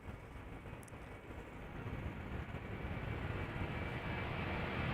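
A 16-year-old Delta Air Lines Airbus A330-300 jet, Flight 161 to Minneapolis, at Amsterdam Schiphol, heard as a distant broadband engine roar that swells gradually louder as it approaches.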